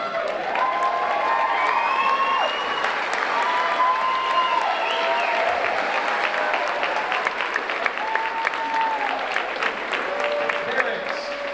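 A crowd of parents, relatives and friends at a school graduation ceremony applauds and cheers for the graduating class, with dense, loud, continuous clapping, whoops and children's shouts mixed with scattered voices throughout.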